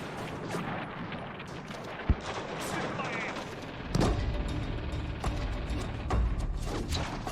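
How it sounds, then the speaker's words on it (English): Battle of Okinawa combat in 1944 with Americans under mortar and machine-gun fire, sharp reports and thuds in an irregular barrage, one loud crack early and heavier rumbling later, with narration over it. "Americans are pinned down by mortars and machine guns no matter where they go."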